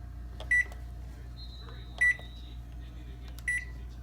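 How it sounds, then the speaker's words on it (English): A microwave oven with a chip bag inside runs with a low steady hum, while three short electronic beeps sound at even intervals, faint and close by. "right now I'm about to microwave a chip bag"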